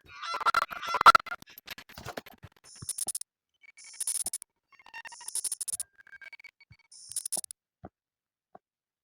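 Several short bursts of honking calls from a goose in the horror game Seven Nights at Goose's, spaced with brief pauses, with some scratchy clatter at the start.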